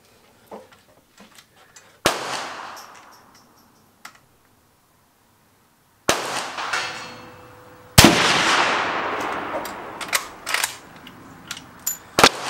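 A Berthier 1892 carbine fires handloaded 8mm Lebel cartridges outdoors: three sharp, loud shots spaced several seconds apart, each with a ringing decay, amid clicks and rattles of the bolt being worked.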